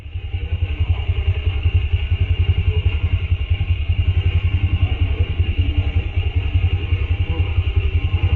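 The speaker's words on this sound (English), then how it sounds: "Two men on a motorcycle ride through the eerie landscape," A motorcycle carrying two riders on CCTV footage from Antioquia, Colombia, putters along with a loud, steady, rapidly pulsing engine rumble and some clatter throughout, with no talking.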